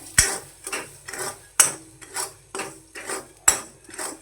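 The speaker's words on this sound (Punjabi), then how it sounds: "ਅੱਧੇ ਕੇ ਛੋਲੇ ਪਾਵਾਂਗੇ ਆਪਾਂ ਇਹਦੇ ਵਿੱਚ ਤੇ ਹਿਲਾ ਦਾਂਗੇ ਇਹਨਾਂ ਨੂੰ ਆਪਾਂ ਹਿਲਾਉਂਦੇ ਰਵਾਂਗੇ ਨਾਲ ਦੀ ਨਾਲ" Black chickpeas are stirred while dry-roasting in a hot kadhai without sand, giving a rhythmic series of close metallic scrapes and clinks, several sharp knocks among them, with no talking.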